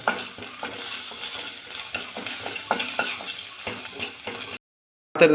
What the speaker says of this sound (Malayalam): ഇതെല്ലാം കൂടെ ഇളക്കി വറുത്തെടുക്കുകയാണ് ചെയ്തത്.